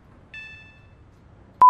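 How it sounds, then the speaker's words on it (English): Door alarm of a Class 318 electric multiple unit train in Train Simulator: a single steady electronic tone for about half a second, then quiet, ending with the start of a sharp, louder beep. "The new door alarms sound nice."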